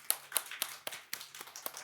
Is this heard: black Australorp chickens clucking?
no